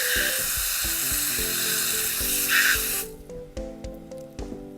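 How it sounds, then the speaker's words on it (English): A garden hose sprays water onto a dirty pink toy shovel, a loud hissing spray that cuts off after about three seconds, under tinny background music. "This pink one will do, but it's dirty. Let's hose it off."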